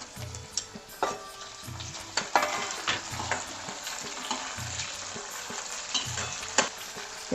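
Tomatoes go into a frying pan with dal and peanuts and are stirred, giving a steady sizzle broken by rhythmic scraping strokes of a spoon, close and moderately loud.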